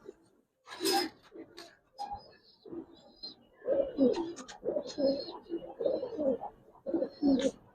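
Giribaz and coloring pigeons in a loft coo repeatedly in rolling, rhythmic phrases close by, with a few soft chirps and flutters between calls.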